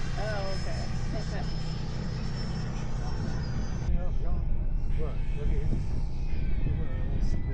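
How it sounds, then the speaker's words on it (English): An upgraded FMS Pilatus PC-21 radio-controlled model airplane flies on its maiden flight at a model flying field, giving a steady, fairly loud electric whine that shifts in pitch, with voices murmuring nearby. "That is a cool plane."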